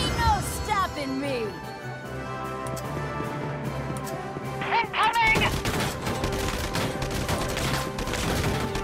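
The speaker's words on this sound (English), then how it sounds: "How about a serenade of bullets?" Scattered gunfire crackles in a Valkyria Chronicles 4 battle, mixed with a musical score and character voices that speak over the shots at moderate loudness.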